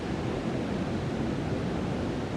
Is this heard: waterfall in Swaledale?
yes